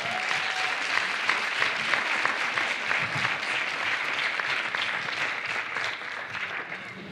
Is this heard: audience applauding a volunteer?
yes